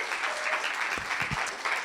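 An audience at a conference on artistic thinking in education claps in steady, dense applause. It is moderately loud and there are no voices.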